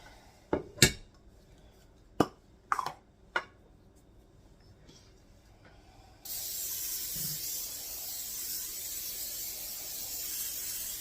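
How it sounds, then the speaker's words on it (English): A few clinks and taps of metal pans, then a sustained loud hiss of cooking spray onto a 9 by 13 baking pan that continues to the end. "I've got my 9 by 13 pan here, and I'm going to give that a spray"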